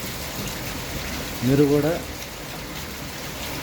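Steady rain falling outdoors, a continuous even hiss, with a brief spoken phrase over it midway.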